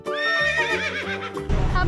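A small pony gives one loud, close whinny with a wavering, rising-and-falling pitch, then breaks off into a short noisy snort.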